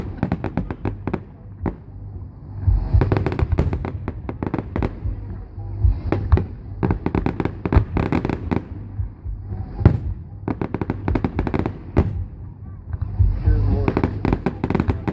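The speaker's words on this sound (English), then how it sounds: "fireworks." A fireworks display at Indiana Grand Racing & Casino, with repeated booms and crackling bursts rolling throughout, loud and fairly close, while people talk intermittently nearby.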